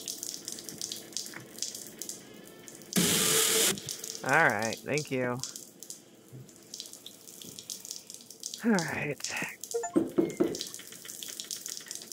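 Water running from a valve in a video game bathroom, a short loud gush followed by a steady faint flow beneath someone talking.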